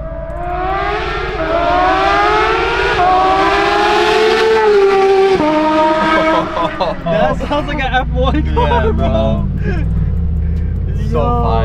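Porsche GT3 RS or GT2 RS engine accelerating hard with a rising high-pitched wail, loud and close, then a sharp shift and throttle blips as it fades into rougher revving with voices in the background.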